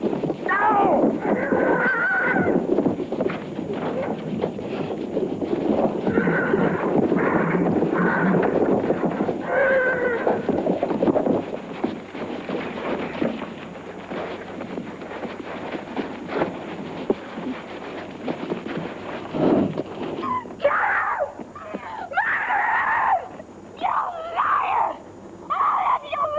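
A horse neighs and struggles while being pulled down, loud whinnies and thrashing mixed with frantic shouting voices throughout.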